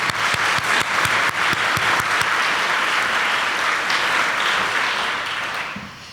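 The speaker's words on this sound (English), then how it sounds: "Let's give them all a big round of applause" A big round of audience applause at a community foundation's annual meeting, a thick wash of many hands clapping loudly and steadily before fading away at the very end.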